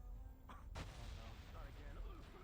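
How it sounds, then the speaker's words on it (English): Explosion effect set off on an avatar in a role-play game: a sharp burst about three-quarters of a second in, preceded by a smaller pop, over a low rumbling background. "Ghost, please activate the explosion"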